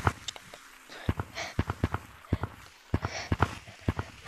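Video game horse hooves clip-clop in an uneven trotting rhythm, crisp and close, with short pauses between bursts of steps.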